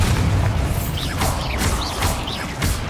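Bombarda spell blast during a Hogwarts Legacy duel, a loud close boom with crackling bursts, repeated in quick succession amid other spell effects.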